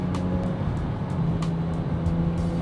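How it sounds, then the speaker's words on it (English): A steady, deep exhaust drone from a 412-horsepower 996 sports car rumbles inside the cabin while driving, with faint periodic clicks over the continuous low growl. "inside the cabin, the exhaust just sounds really good"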